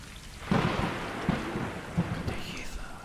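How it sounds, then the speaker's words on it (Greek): Steady rain with rolling thunder in a storm scene from the video game Stray, low rumbles swelling over a constant patter of rain, fairly near. "Καταιγίδα."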